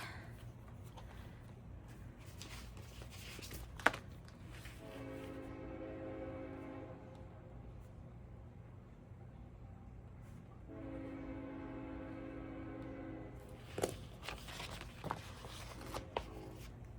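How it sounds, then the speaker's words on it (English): A train rumbles past with a loud, steady low drone, and its horn sounds in two long blasts separated by a pause. "the train. Good heavens. So loud."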